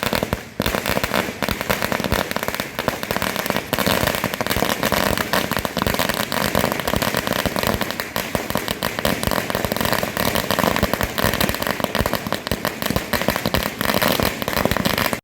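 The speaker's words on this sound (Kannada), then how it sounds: "ಬೆಂಬಲಿಗರು ಪಟಾಕಿ ಸಿಡಿಸಿ ಸಂಭ್ರಮಾಚರಣೆ ಆಚರಿಸಿದ್ರು." Supporters celebrating a no-confidence vote at a rural electricity cooperative in Hukkeri set off strings of firecrackers, a loud, dense, unbroken crackle of rapid bangs that fills the whole stretch.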